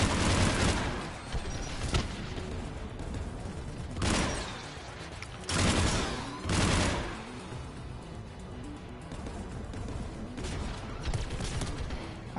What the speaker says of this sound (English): Oh, that thing's shooting at me.